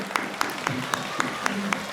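An audience applauds students at a school visit with a short burst of rhythmic, evenly spaced claps, fairly close and moderately loud, with no talking over it.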